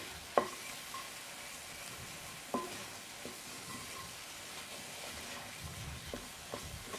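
A plant-based roux for mac and cheese is stirred in a pan, giving a soft, continuous sizzle with a few sharp scrapes and taps of the utensil against the pan.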